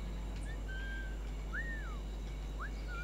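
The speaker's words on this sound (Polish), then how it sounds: "Gwizdże mi cały czas, taki spam" A character in Assassin's Creed IV: Black Flag whistles to lure a guard: several clear, sliding whistle notes, one long and level, others rising and falling, repeated over a faint steady hum.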